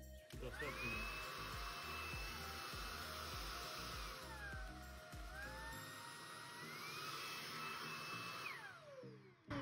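A Redroad V17 stick vacuum cleaner switches on and runs loud and close, a high motor whine that shifts pitch between power modes for several seconds before cutting off.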